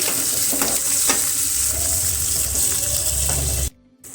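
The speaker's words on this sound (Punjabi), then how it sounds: "ਪਿਆਜ਼ਾਂ ਨੂੰ ਆਪਾਂ ਲੰਬੇ ਕੱਟ ਲਿਆ ਸੀ ਪਿਆਜ਼ਾਂ ਨੂੰ ਭੁੰਨ ਲਵਾਂਗੇ" Long-sliced onions fry in oil for a jackfruit curry, crackling loudly with scraping stirs and small clatters before the sound cuts off abruptly near the end.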